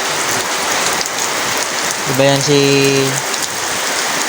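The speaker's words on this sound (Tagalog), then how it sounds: "Ngayon naulan pa lang kaya medyo hindi pa masyadong ulan" Rain falls outdoors in a steady, moderately loud hiss, with a brief spoken phrase over it and a rooster's crow rising in the middle.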